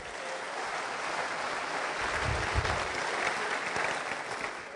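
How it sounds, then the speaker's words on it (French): Steady applause from an audience at a stand-up comedy night in a congress hall in Yaoundé, Cameroon, a broad, even wash of many hands clapping throughout, fairly loud and continuous with no speech over it. "Applaudissez pour le Seigneur."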